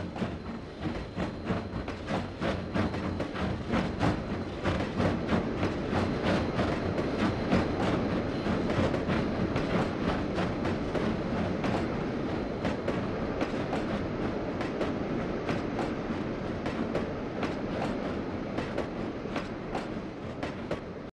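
A simulated Denver and Rio Grande Western narrow gauge train in Trainz 2009 rolls steadily along the rails near Chama, wheels clicking in a rapid regular rhythm over a continuous rumble, close and loud throughout.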